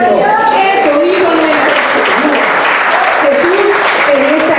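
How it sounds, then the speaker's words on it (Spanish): A church congregation claps for the Lord during a Good Friday sermon, sustained loud, dense clapping close by, with voices calling out over it. "de palmas al Señor"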